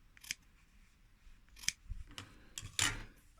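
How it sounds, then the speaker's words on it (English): Scissors trimming a leather seam allowance on a sewn dart, a few quiet, close crisp snips spaced irregularly against a near-silent room. "The seam allowance down, we can trim it off a bit"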